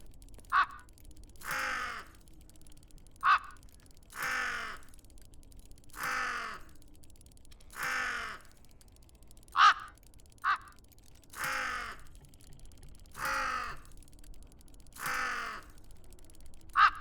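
Light-on and light-off signal tones in the two-player co-op mystery puzzle game Tick Tock: A Tale for Two, a steady alternating series of short bright blips and longer swelling tones repeating about every second, clear and alone.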